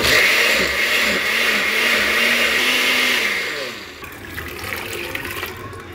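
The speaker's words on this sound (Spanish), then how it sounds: "Con su misma agua donde se cocieron los chiles se van a moler." A blender loudly grinds cooked chiles with their own cooking water and a pinch of salt, whirring steadily for about four seconds before shutting off, leaving quieter clatter behind.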